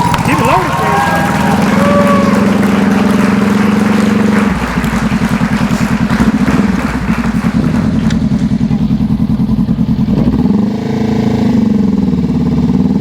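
Motorcycle idling and creeping along at very slow speed during a practice session, a loud close engine drone with throttle changes and a chugging low patter, while someone talks over it.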